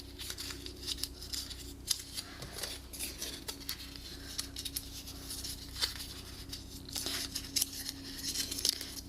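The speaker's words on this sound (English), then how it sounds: "You're going to fold along the score lines." Paper card stock being folded along score lines for a pop-up card, heard as quiet, close crinkles, creases and soft taps scattered over several seconds with a faint background hum.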